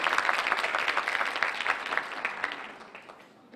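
Audience applause at a panel session welcoming the moderator, a steady wash of many hands clapping at moderate volume that tapers off toward the end.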